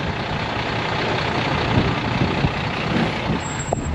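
A lorry showing a fault, idling with a rumbling engine, then a short sharp hiss of air brakes near the end, close by, with no talk.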